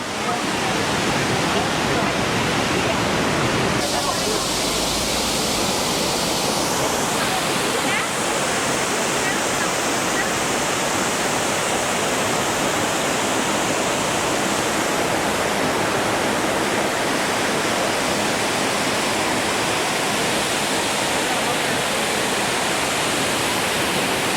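Cheyapara waterfall beside the Kochi road near Munnar, Kerala, roars as a steady, loud wash of falling water that fills the whole stretch without a break.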